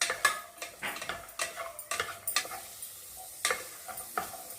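Raisins and cashews sizzle gently in hot ghee while a metal spoon stirs and scrapes the pan in a run of sharp, irregular clinks.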